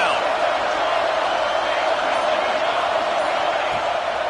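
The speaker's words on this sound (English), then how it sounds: "Decibels rising as the crowd gets behind this defense on third down." A college football stadium crowd roars steadily for the defense on third down, a dense, loud, unbroken wash of noise filling the whole stretch.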